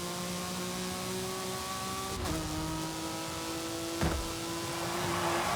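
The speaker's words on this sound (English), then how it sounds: "I think the Porsche Dakar has really good acceleration as well." A Porsche Dakar accelerates in the racing game Forza Horizon 5, its engine drone holding a steady tone with a quick gear-change dip partway through, then pulling on loudly with no talk over it.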